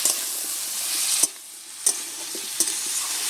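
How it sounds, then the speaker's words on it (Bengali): Crab curry with pumpkin being stirred and fried in a pan, a steady broad sizzle broken by a few sharp scraping knocks of the spoon against the pan, close and fairly loud, no voices. "এবারে নেড়ে চেড়ে বেশ সুন্দর করে কষিয়ে নেব"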